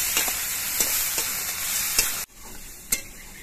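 Eggplant pieces with salt and green chillies fry over low heat in a pan for a fish oil chochchori, a steady sizzle broken by several sharp scrapes and clacks of stirring, close and fairly loud with no talking.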